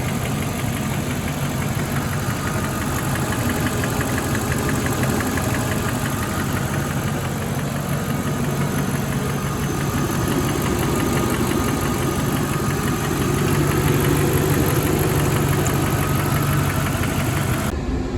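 A cold V8 engine with noisy lifters idles steadily and loudly close by, a constant rumbling drone with a fast, faint ticking running through it for the whole stretch.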